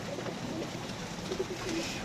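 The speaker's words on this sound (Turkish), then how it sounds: "Kuşlar hemen kümese kaçtı." Pigeons coo softly inside a coop during a hailstorm over a steady wash of background noise, the calls low and repeating.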